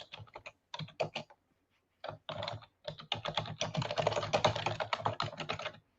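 Rapid typing on a computer keyboard while writing a chat message, with quick bursts of keystrokes separated by short pauses and a dense, steady run of clacking at the end.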